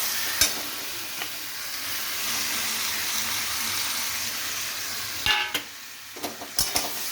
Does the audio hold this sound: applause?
no